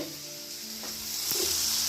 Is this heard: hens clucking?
no